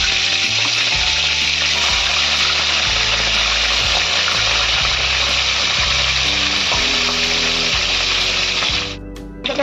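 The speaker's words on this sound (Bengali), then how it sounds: "তেল গরম হয়ে গেছে, মাছের মাথাটা ছেড়ে দেব।" A katla fish head, rubbed with salt and turmeric, frying in hot oil with a loud, continuous close sizzle and spatter that holds steady throughout before easing slightly at the end.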